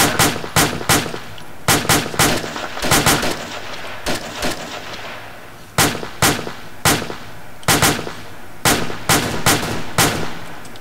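Bursts of gunfire and explosive blasts in a first-person shooter video game, sharp loud shots in quick clusters of three or four separated by short gaps, with a low rumble between them.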